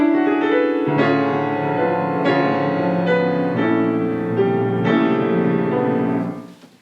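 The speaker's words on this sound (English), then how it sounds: "I took the opening motive of Turandot's Act 3," Opening motive of Act 3 of Puccini's opera Turandot, played as sustained rich chords that shift every second or so with fresh accented attacks, full and resonant, with no voices, fading out at the end.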